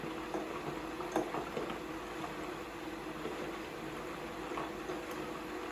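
Homemade meatballs frying in a pan of splashing oil, a continuous moderate sizzle with occasional sharper spits and crackles, heard close with no speech.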